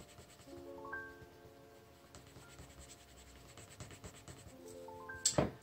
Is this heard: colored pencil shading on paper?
yes